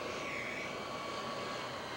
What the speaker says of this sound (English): We apologize for the engine noise there.